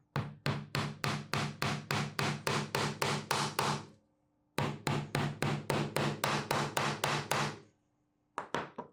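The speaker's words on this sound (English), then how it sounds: "I'm going to hammer in the second nail all the way down" A hammer strikes a nail into a wooden treasure box in two fast, even runs of about fifteen sharp knocks each, with a short pause between them and a few more blows at the end, close and clear.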